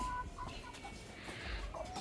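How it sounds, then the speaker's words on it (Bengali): Egg-laying hens at a home setting give soft, scattered clucks and short calls, faint and somewhat distant against a quiet background. "এই যে দেখেন, এগুলো হচ্ছে ডিম পাড়া মুরগি।"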